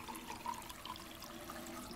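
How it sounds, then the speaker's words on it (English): Running water filling a bottle at a tap in the video game Life is Strange 2, a steady soft splashing stream with faint drip-like accents, heard alone. "Vamos encher a garrafa."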